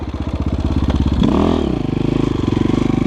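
A KOVI Advance 250 enduro motorcycle engine runs steadily while riding, with a pulsing exhaust note, rising briefly in a rev around the middle before settling back to a rhythmic drone.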